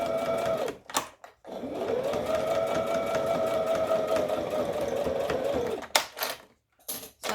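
A sewing machine back stitching seams on a hacked M6614 hoodie, a steady close whirring drone that runs several seconds, broken by brief pauses and a few sharp clicks near the start and end.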